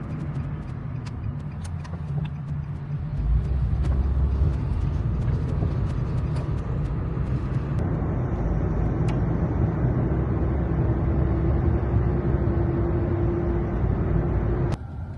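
A car drives toward a car wash, its steady low engine and road rumble filling the interior, growing slightly louder partway through and holding evenly with no voices.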